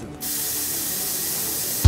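A Dexe hair thickening fiber spray for thinning hair gives one loud, continuous aerosol hiss lasting almost two seconds. It stops abruptly with a short thump.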